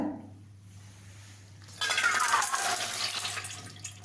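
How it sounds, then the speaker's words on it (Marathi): After a quiet moment, water drained from soaked field beans pours out and splashes steadily for a couple of seconds, with faint clinks of a container, close by. "तर आता यातलं पाणी काढून टाकायचं आहे आपल्याला"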